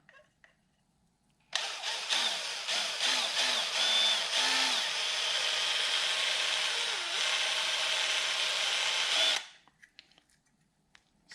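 Power drill fitted with a wood drill bit boring into plastic in a garage, a loud whining buzz that starts abruptly, runs steadily for about eight seconds with slight wavering, then cuts off.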